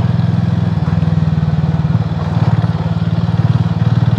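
A motorcycle engine runs close by on a rough monsoon road, a steady throbbing putter that holds at a loud level throughout, with no clear pass-by swell.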